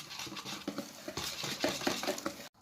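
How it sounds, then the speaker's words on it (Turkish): Cake batter for a moist brownie-style cake is whisked by hand in a bowl, giving a steady, quiet scraping and tapping of the whisk against the bowl in quick irregular strokes, with no talk. "Ve iyice çırpıyorum"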